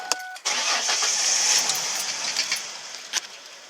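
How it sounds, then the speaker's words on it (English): A 2000 Ford Mustang fitted with a replacement engine computer cranks briefly and fires up, settling into a loud, close, steady run with a few clicks and knocks over the engine noise. "Alright, I should be able to start it up."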